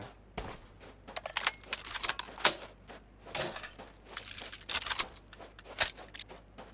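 Rapid metallic clacks and rattles of a rifle magazine being swapped and chambered in PUBG Mobile, several sharp bursts in quick succession, close and fairly loud with no talk.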